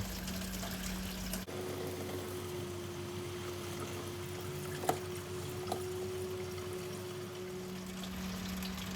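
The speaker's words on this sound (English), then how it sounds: "Pull it back. And let that drain away." Fuel drains from a disconnected pipe on a Classic Mini into a plastic container, a steady continuous liquid stream close by, with a couple of faint knocks.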